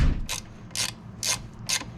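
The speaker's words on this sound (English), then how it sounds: "And we will tighten up this one last time." A ratchet tightens dirt bike suspension on a 250cc X-Pro Titan during assembly: four short, evenly spaced bursts of ratcheting clicks about half a second apart, close and fairly loud, with no talk.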